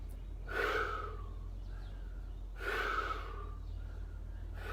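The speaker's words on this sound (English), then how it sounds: "You can breathe out through your mouth." Two slow, deliberate exhalations through the mouth during a Kundalini kriya breathing practice, each a soft breathy rush lasting about a second, spaced a couple of seconds apart over steady low background hum, with no talking.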